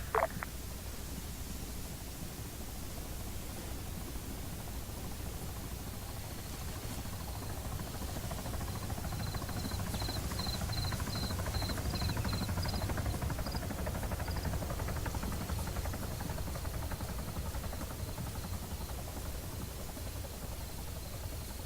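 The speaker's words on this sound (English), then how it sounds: "Helicopter, 700 meters, northwest." Helicopter flying in the ArmA 3 military game on Stratis, a steady distant rotor drone with low rumble that holds for the whole stretch, faint and continuous with no talk.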